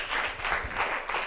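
A live audience at a talk gives a brief round of applause, steady dense clapping with no voices over it.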